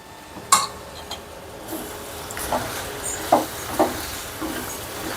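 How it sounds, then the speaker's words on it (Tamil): A spoon stirs cooked dal into an okra and chickpea gravy in a pan, with soft scraping and a few distinct clinks against the metal. "கொஞ்சம் கொஞ்சமாக சேர்த்து கலந்து விடுவோம்."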